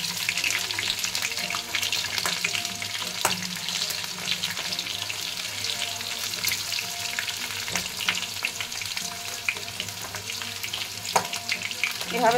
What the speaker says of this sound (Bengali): এভাবে সব আলুগুলোকে আমি ফ্রাই করে নেব।